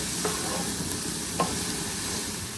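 Pumpkin pieces with coriander leaves fry and sizzle steadily in a pan on a gas stove, with two brief spoon scrapes as they are stirred. No one speaks.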